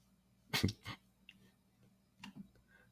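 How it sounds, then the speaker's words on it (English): Two short, faint dog barks in quick succession, then a pause and two more, distant and quiet against a soft background hum. "Hear my dog barking."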